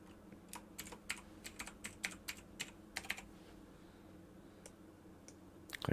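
Someone types on a computer keyboard in a school setting, a quiet run of separate close key clicks in an irregular rhythm, ending with a quick cluster of taps.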